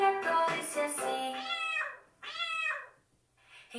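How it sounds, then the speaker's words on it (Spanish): A cat meows several times in drawn-out, tonal cries during a children's song about Noah's ark animals, the calls loud and up front with short pauses between them. "Quieren oír, el gato dice así."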